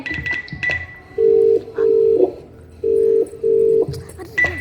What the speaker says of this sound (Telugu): ఏంటి నాన్న ఫోన్ లిఫ్ట్ చేయట్లేదు